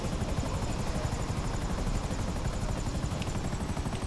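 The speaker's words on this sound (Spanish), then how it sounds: "Móntate en el helicóptero." Helicopter in a video game, its rotor beating in a dense, constant loud chop that stays near and unbroken from start to end.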